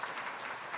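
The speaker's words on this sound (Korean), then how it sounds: "격려와 감사의 박수 드립시다" A church congregation claps in a faint, steady patter of applause after a sermon.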